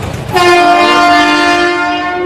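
A train horn at New Delhi railway station blares in one long, loud, steady blast that starts abruptly and holds for about two seconds, with faint station noise beneath.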